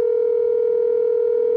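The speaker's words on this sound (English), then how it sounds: "She was calling her phone, she was calling her home phone, she was calling her mobile phone, and all she was getting was this." A steady telephone line tone heard when calling a phone, a single pure hum held evenly and loudly for the whole moment, with no voices.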